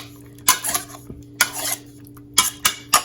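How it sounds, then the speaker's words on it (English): A utensil stirs olive oil and spices in a bowl for swordfish kabobs. Five or six distinct scraping, clinking strokes come at uneven intervals, close and clear, with quiet gaps between them. "we'll give it a stir"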